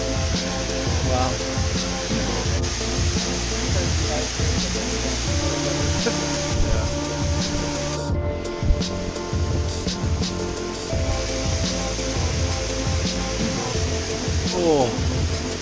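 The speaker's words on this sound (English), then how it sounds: "The rain's picking up." Torrential rain pours down steadily in a rainforest, a dense, continuous roar of water close by that holds loud and even throughout, with a brief dip midway and a few faint sounds mixed in.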